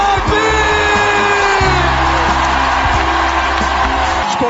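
A live crowd at a French event cheers, whoops and yells loudly for the master of ceremonies, a dense continuous roar with rising shouts throughout.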